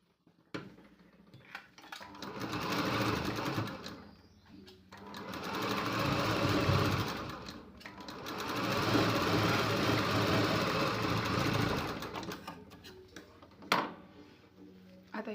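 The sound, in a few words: sewing machine stitching a blouse strip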